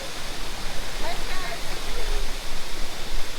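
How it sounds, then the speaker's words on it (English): Reggae Falls waterfall in St. Thomas, Jamaica, pours as a steady, dense broadband rush that fills the whole clip, with faint voices briefly audible beneath the roar. "Nice waterfalls there. Reggae Falls, right? Reggae Falls in a St.Thomas."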